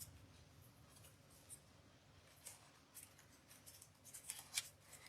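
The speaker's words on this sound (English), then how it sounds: "I have one that I just want to snip back." Scissors snip back the stem of a flower on a Gothic rose heart wreath, giving a few faint, quiet cuts that sharpen into a cluster of crisp clicks near the end, with no talking.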